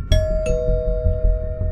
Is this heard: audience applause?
no